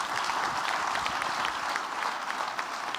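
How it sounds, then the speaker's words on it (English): An audience applauds together at an event about women-led businesses, a dense, steady wash of clapping that holds at an even level for the whole stretch with no voices over it. "Let's start by giving them a big round of applause"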